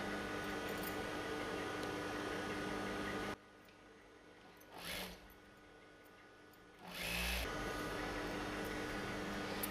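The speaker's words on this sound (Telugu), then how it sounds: "రెండు స్లీవ్ మనం డౌన్ సైడ్లో మడిచి స్టిచ్చింగ్ వేస్తున్నాము." A sewing machine stitches a folded chudidar sleeve along its lower edge. A steady mechanical whir runs, cuts out into quiet broken by a brief burst, then starts up again close by.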